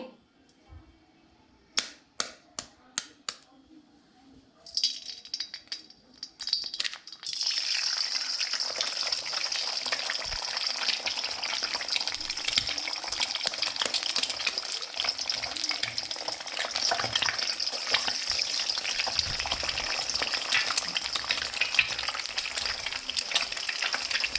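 Two eggs cracked into a couple of spoons of hot oil for egg Maggi, a few sharp taps and cracks at first, then a burst of sizzling that settles into a steady, close frying hiss.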